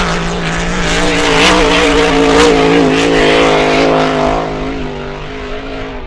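A racing boat's engine roars loudly and steadily on the water during the E.C. Griffith Cup race, a sustained powerful drone that swells and then slowly fades.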